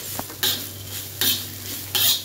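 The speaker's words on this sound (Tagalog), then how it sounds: "haluin ko lang siya ng haluin hanggang sa maging dry" Okra seasoned with chili powder and turmeric is stirred in a pan: three rhythmic scraping strokes of a utensil against the metal, close and clear, with no voices.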